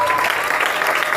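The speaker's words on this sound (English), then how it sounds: "Clap your hands to" Church congregation clapping hands together during a lively revival service, a dense, steady wash of claps with no single hand standing out, sustained and fairly loud throughout.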